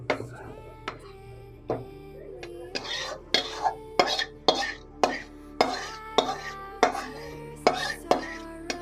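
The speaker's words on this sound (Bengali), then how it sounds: "কড়াই থেকে নামিয়ে নেব বাটিতে।" Aloo posto, potatoes cooked in poppy seed paste, is scooped from a wok into a bowl with a series of sharp metallic scrapes and clinks, evenly paced and close, with a faint background hum.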